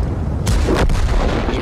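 A tank gun firing in a competitive tank video game match, one loud booming blast with a sharp crack followed by a rumbling decay, close and heavy, with no talking over it.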